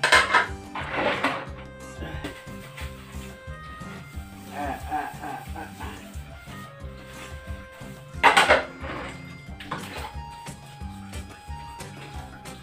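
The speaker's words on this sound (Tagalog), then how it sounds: "Kailangan malinis yung mga plato natin." Plates and dishes being washed by hand, with repeated clinks and clatters of crockery and cutlery at close range, some louder knocks among steady rinsing noise and occasional brief voices.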